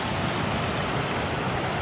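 Steady broadband rush of river water pouring over a weir with stepping stones on the river Wharfe in Wharfedale, a continuous even roar close by with no let-up.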